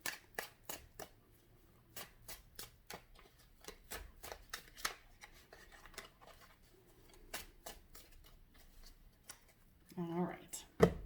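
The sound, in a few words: shuffling a deck of cards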